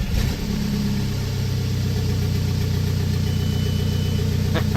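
Volkswagen Bora 1.9 TDI diesel engine cranking, catching and settling into a loud, steady idle, with a few sharp clicks near the end.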